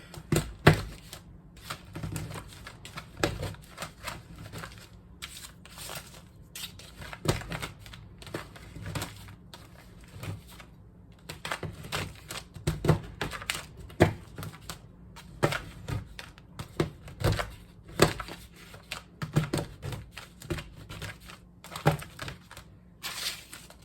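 Peppermint candies chopped with a knife on a cutting board, a steady run of sharp, close knocks and crunches repeating rapidly for over twenty seconds with no talking.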